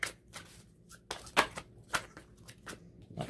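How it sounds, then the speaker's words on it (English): Tarot cards being shuffled by hand in a series of crisp riffling bursts, separated by short pauses, close and clear with no talking. "let me just get all these shuffled."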